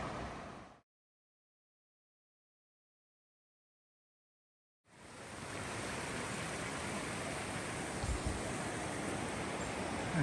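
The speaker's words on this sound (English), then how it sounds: "I'm just right by the river." A river flowing beside a hiking trail in Georgia after rain, a steady broadband rush of water that starts briefly, drops out for a few seconds, then returns close and continuous.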